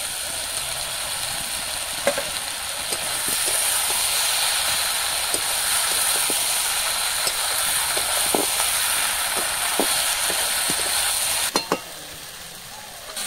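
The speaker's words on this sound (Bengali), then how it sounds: "এখন ভেজে রাখা মাছ দিয়ে দেবো।" Fried chanda fish go into a simmering curry of onion greens, thin eggplant and beans, giving a steady pan sizzle and hiss with a few light clinks from a spoon near the end.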